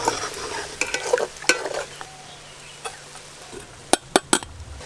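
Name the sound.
frying onions for biryani in oil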